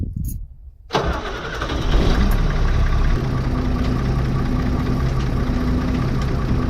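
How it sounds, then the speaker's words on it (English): An engine cranks and catches after a second of quiet, then settles into a steady, loud idle with a low rumble and faint hissing. "Let's start the engine."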